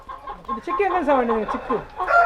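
A native-breed rooster clucking close by in a short burst of throaty, warbling calls, loud and alone.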